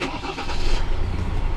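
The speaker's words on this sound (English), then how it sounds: "Now I will start the car" Ford Everest 2.0L bi-turbo diesel starting up: a brief starter whir catches into a rising engine roar that settles toward a steady idle, close and loud.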